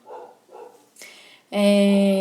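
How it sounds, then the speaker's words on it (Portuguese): A dog barks twice in short muffled bursts, then lets out a loud, sustained high-pitched yelp or howl that fills the rest of the moment, heard close and alone. "o cachorro, o Tufão, o cachorro do meu sogro, não para de latir"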